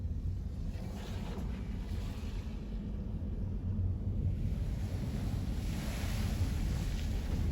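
King tide waves breaking over and onto the roadbed of the Pacific Coast Highway, heard from a passing car as a continuous, heavy surf roar mixed with wind rush.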